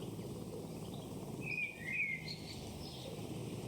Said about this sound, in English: listening to birds in the distance